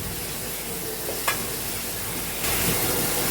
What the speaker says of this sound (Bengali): এই তেলের মধ্যে কয়েকটা শুকনা মরিচ টাইলা নিই।